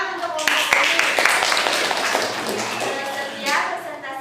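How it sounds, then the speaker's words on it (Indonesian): Classroom applause for a group presentation in an Indonesian economics class, a burst of clapping hands lasting several seconds, fairly near and moderately loud, with a bit of chatter and a second swell toward the end. "tepuk tangan untuk kelompok ini"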